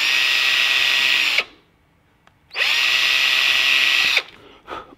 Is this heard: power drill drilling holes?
yes